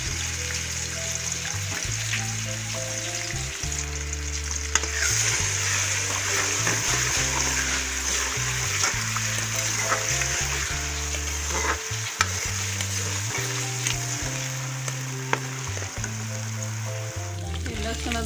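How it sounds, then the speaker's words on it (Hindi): Garlic ginger paste sizzles and fries in hot oil for sarson ka saag, a steady loud crackle with stirring scrapes and a low background hum running throughout. "और ये लहसुन अदरक का पेस्ट डाल रही हूँ।"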